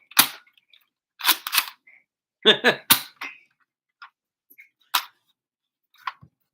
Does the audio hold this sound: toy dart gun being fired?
yes